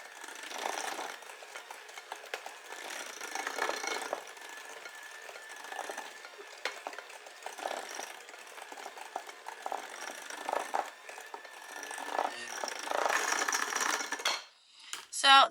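A spoon scraping and clinking in a bowl while cinnamon and sugar topping is mixed, quick irregular rattling strokes, close and moderately loud, continuing almost without pause.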